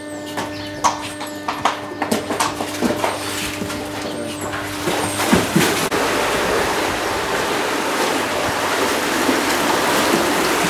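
Steady churning, splashing water in a horse water walker that builds and fills the space, preceded by a series of hollow hoof clops on a hard floor.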